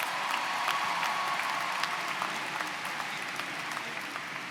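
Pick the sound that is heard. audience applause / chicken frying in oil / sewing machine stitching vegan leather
audience applause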